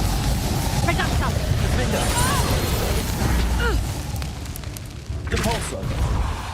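A Reducto spell blast in a Harry Potter video game booms with a heavy low rumble amid battle noise, while character voices call out over it.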